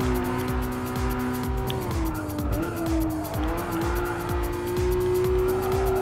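A Porsche 911 GT3 in Gran Turismo Sport holds a steady, loud engine note on track while its tires squeal and skid in repeated bursts, with no voices.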